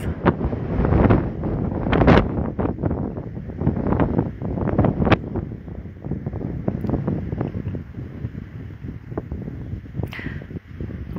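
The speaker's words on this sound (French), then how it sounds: "j'attends que la petite rafale de vent passe." Blustery sea wind buffets the microphone in rough, rumbling gusts that rise and fall, loud and close, with no voices.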